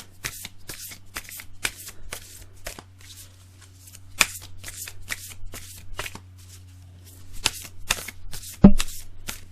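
A deck of oracle cards is shuffled by hand in a steady run of crisp riffling bursts, close and fairly loud, with one sharper slap near the end and no talking.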